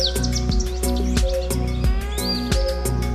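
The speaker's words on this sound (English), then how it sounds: "The birds." Birds chirp and tweet in quick repeated bursts over a steady, loud tonal drone and rhythmic pulsing music, with no talking.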